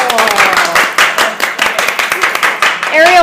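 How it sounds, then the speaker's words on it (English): A small crowd claps in a steady round of applause for a bike raffle winner, with voices mixed in beneath the clapping. "Let's give her a round of applause."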